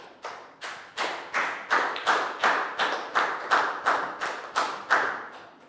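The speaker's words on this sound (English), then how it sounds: "Big round of applause for Preo." Rhythmic group clapping in a primary classroom, about eleven evenly spaced in-unison claps with a clear steady beat, close and moderately loud, with no talking.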